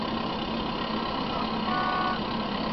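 Tractor engine idling in GTA San Andreas, a steady, even mechanical drone that holds at one level throughout with no other sounds over it.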